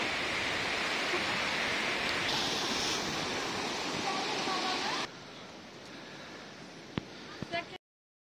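Sea waves wash steadily along the shore near Hobart, Tasmania, a broad continuous surf rush that drops in level partway through, with a few sharp knocks near the end.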